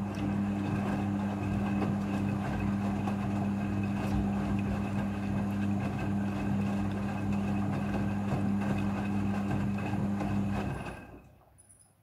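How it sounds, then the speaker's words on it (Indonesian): Midea front-loading washing machine during its second rinse cycle, with a steady mechanical hum and sloshing water running continuously at close range before cutting off abruptly near the end. "Setelah proses pemerasan selesai, masuk ke proses pembilasan air yang kedua."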